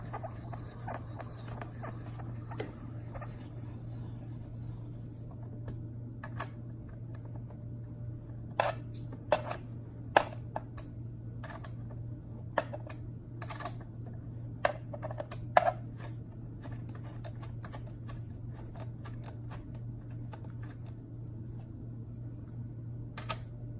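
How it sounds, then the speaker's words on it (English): Steady ratcheting clicks and small metal taps as a large Allen wrench tightens bolts on a Nokaxus large-size gaming chair, sharp ticks scattered over a constant low hum in a quiet room. "go back to your large size Allen wrench, tighten them on down"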